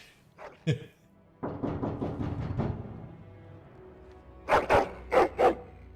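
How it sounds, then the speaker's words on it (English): A dog barks and growls angrily in several bursts in the video game Dragon Age: Origins, a short pause and then four sharp, loud barks near the end. "Angry barking and growling."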